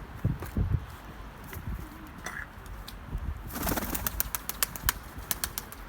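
Pigeon released into the air, wings flapping in flight as it takes off, with a run of sharp wingbeat claps and faint bird noises nearby, no voices.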